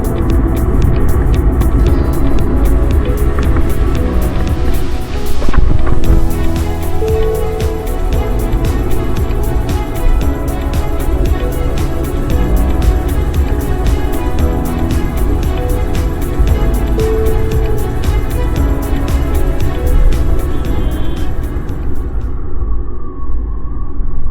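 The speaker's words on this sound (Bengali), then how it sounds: "আমি যে গাড়ি চালাচ্ছি আমার ইঞ্জিনের শব্দটা পর্যন্ত এখানে ভাইব্রেট হচ্ছে" A vehicle engine droning steadily while driving an empty road through Joypur forest in Bankura, a loud continuous throbbing rumble with no other sounds around it.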